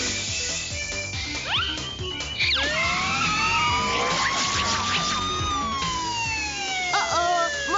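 A police motorcycle siren wails in a Sonic cartoon, its rising and falling tone loud and close over busy cartoon music and effects.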